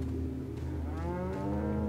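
A cow in the video game Resident Evil 4 moos in a long, low, drawn-out call that rises slightly toward the end, heard fairly close and alone.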